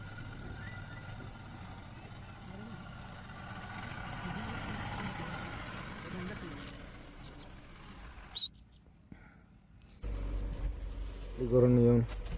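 A tractor engine runs at a low idle outdoors, a steady rumble under birdsong and speech, with a brief louder burst near the end.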